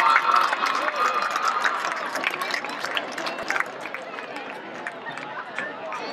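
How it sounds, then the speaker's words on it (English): A school event crowd in a gym-like hall gives a round of applause for a participant, a dense wash of clapping that slowly tapers, with talk mixed underneath. "Another round of applause for Harley."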